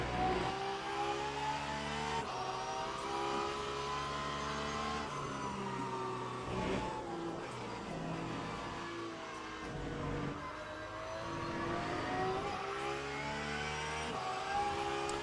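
GT3 race car engine in the Le Mans Ultimate racing sim, a fairly quiet mid-pitched drone that rises and falls through gear changes and revs, steady and close throughout with no talk.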